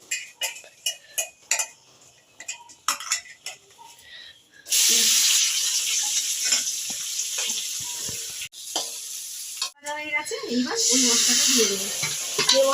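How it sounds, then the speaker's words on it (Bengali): Onions for chicken Kolhapuri drop into a hot pan and fry with a loud, continuous sizzle, after several seconds of utensils clinking and scraping against the pan. "ততক্ষণ আমি পেঁয়াজটা ভেজে নিই"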